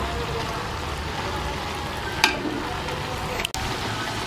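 Spicy banana heart stir-fry sizzles steadily in a pan, with a brief scrape of stirring midway and a soft clatter near the end.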